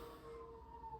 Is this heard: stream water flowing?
no